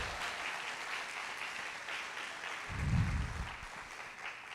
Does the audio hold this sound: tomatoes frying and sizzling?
no